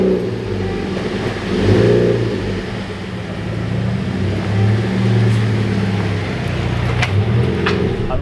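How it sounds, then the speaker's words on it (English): A Mazda Miata NC fitted with a RoadsterSport race exhaust drives along, its engine drone steady and close, swelling briefly as it accelerates, with no talking. "Driving in the car around with the RoadsterSport race exhaust,"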